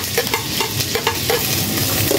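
Hotdogs and longganisa sausages fry together in a pan with a loud, continuous sizzle, broken by the soft rhythmic scrape of stirring.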